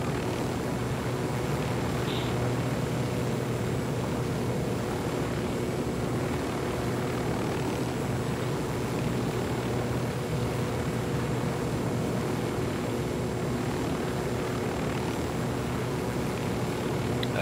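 A helicopter in the video game Tom Clancy's Ghost Recon Wildlands drones steadily and loudly throughout, its rotor and engine noise forming a constant, unbroken roar with no talk over it.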